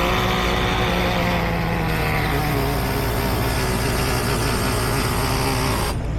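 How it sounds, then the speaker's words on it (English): A Traxxas nitro engine in an RC funny car idles close and loud, a constant buzzing drone with an even tone and no talking, holding steady throughout before cutting off abruptly at the very end. "we go ahead and lower that idle just a little bit"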